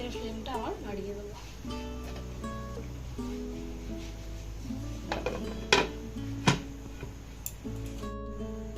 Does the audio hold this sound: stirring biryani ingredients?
yes